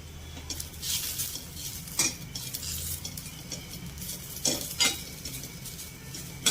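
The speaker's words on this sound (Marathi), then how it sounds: "व्यवस्थित खुसखुशीत एकदम भाजून झाल्यानंतर गॅस बंद करून घ्यायचा आहे।" Grated dry coconut and sesame seeds dry-roasting in a pan, a soft crackling sizzle under repeated metal spatula scrapes and clinks against the pan, close and fairly quiet.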